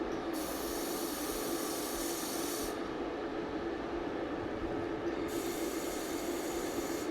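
MIG welding on steel plate, a steady loud crackling hiss that runs continuously for about seven seconds with brief shifts in tone, no voices.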